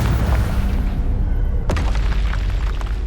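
A Confringo fire spell explodes in the Hogwarts Legacy video game: one sharp, loud blast bursts out midway over a steady, dense low rumble of game ambience.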